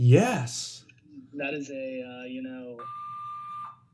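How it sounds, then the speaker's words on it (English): An emergency alarm inside a building gives a steady electronic beep lasting almost a second near the end, heard after a burst of talking and some background clicks. "This annoying beeping."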